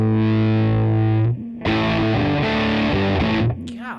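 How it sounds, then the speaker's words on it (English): A guitar played through a distortion pedal with the gain turned all the way up gives loud, thick sustained chords, then a short break, then a run of changing distorted chords. "That is a gain all the way up. Distortion."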